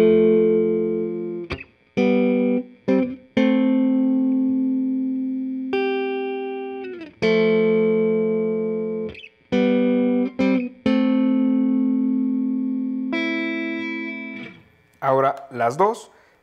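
A Fender Player Jaguar electric guitar on its neck pickup with a clean tone plays sustained single notes and chords that ring out and decay between picks, ending with a quick wobbling bend, loud and close.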